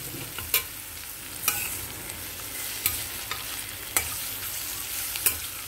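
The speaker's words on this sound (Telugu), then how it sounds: "ఆల్రెడీ ఉడికినాయే, కాకపోతే ఫ్రై అవ్వాలన్నమాట." Boiled bottle gourd pieces fry with onions in a pan under a steady, close sizzle, broken about once a second by sharp scrapes of a spoon stirring, with no voices.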